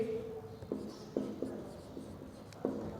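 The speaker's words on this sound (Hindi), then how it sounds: "देखिएगा मैं ये लिख दूं" Chalk taps and scrapes on a board during a maths lesson on percentages, about half a dozen sharp knocks and short strokes at uneven intervals, close and clear over a quiet room with no talking.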